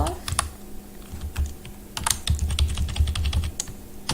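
Clattering keystrokes come from a computer keyboard while someone writes C code, sounding as quick irregular bursts of clicks close to the mic, with faint low background hum and no clear speech.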